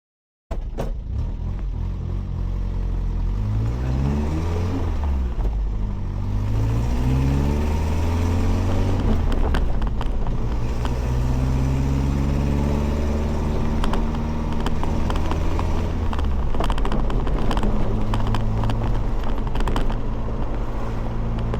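Engine of a 1980 Mitsubishi L200 pickup truck, long abandoned and just running again, heard from inside as it drives, with rising and falling revs through gear changes, a loud steady drone with rattling mechanical noise and no talk.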